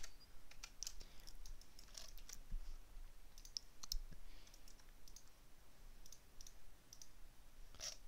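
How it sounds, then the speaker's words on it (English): Short, faint clicks in an irregular series from a computer mouse pressed while the Control key is held, close and quiet against a soft background hiss. "don't right click, just regular click while holding control"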